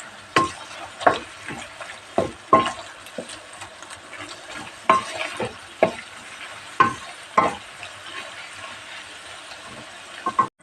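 Chicken and mushrooms with tomato paste being sautéed in a pan: repeated sharp scrapes and clacks of a spoon stirring at an irregular rhythm, close and fairly loud over a low, steady background sizzle.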